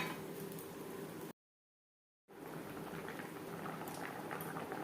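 A shol fish curry with potato and cauliflower simmers in its gravy, giving a steady, soft bubbling hiss that breaks off for about a second and then carries on evenly.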